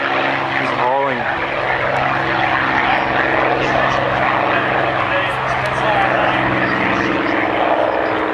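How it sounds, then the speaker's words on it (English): A Spitfire fighter plane takes off at an airshow, its propeller engine roaring loudly and steadily throughout while a voice talks over it. "A beautiful Spitfire taking off"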